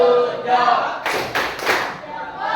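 A classroom group claps hands in short bursts during an ice-breaking game, with a few loud close claps in the middle and voices before and after.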